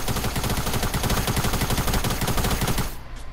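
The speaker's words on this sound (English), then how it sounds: "They're shooting at you from 2-3?" Rapid automatic gunfire in Fortnite rattles continuously in a loud, close burst, then cuts off abruptly near the end.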